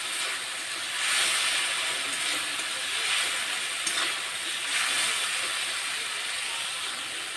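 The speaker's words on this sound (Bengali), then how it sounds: "একটু কষিয়ে নেব যতক্ষণে আদা রসুনের কাঁচা গন্ধটা না বেরিয়ে যায় ততক্ষণ কষিয়ে নেব" Ginger-garlic masala sautés in a pan with a continuous, even sizzling hiss, close and moderately loud, swelling slightly at moments as it is stirred, with no talking.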